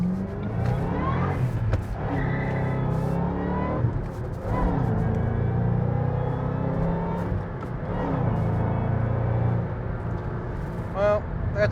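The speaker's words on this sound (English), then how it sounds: "now we're going to give it a little gas" A 2007 Ford Mustang Roush Stage 3 427R accelerates hard, heard from inside. Its engine note climbs repeatedly through the gears with short dips at each shift, loud and continuous, with a voice speaking over it at times.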